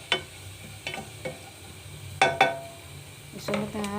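Garlic frying in a pan while it browns: a low steady sizzle under a series of sharp clinks and scrapes of a utensil against the pan, close by and moderately quiet.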